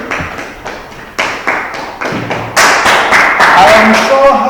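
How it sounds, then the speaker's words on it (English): Clapping from a class for a student, starting as a few separate loud claps, then building into denser applause with some voices mixed in near the end. "Let us clap hands for this lady."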